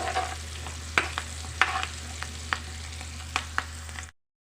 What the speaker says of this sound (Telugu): ఈ ఉల్లిపాయలు బ్రౌ కొంచెం లైట్గా ఫ్రై అవ్వాలి బ్రౌన్ కలర్లోకి రావాలి